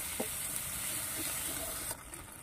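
Ground spice paste frying in oil in a pan for a cauliflower and prawn curry, giving a steady, fairly quiet sizzle with a few soft stirring clicks and a slight drop in level near the end.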